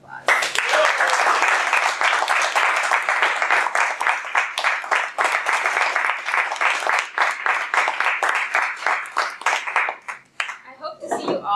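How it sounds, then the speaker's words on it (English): Loud, sustained round of applause from members of a Toastmasters meeting audience, rapid claps packed close together, holding steady for about ten seconds before thinning out into scattered claps and faint voices at the end. "Give yourself a round of applause."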